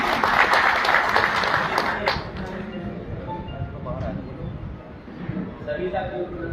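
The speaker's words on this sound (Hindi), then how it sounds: "डॉक्टर साहब का एक बार जोरदार तालियों से स्वागत है।" A crowd at a Karnal conference of contract workers applauds loudly to welcome a doctor from the animal and veterinary department, a dense burst of clapping for about two seconds that thins into murmuring.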